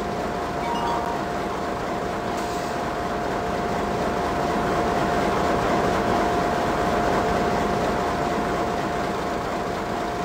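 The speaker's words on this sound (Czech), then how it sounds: "Vlak projíždí." A train passes through a station in the OpenRails train simulator on a Czech line between Klatovy and Zelená Lhota, producing a loud, steady rumble of rolling wheels and engine noise with a constant tonal hum and no speech.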